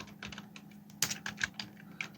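Computer keyboard being typed on, a quick run of light clicking keystrokes in uneven rhythm, close and fairly quiet over a low hum.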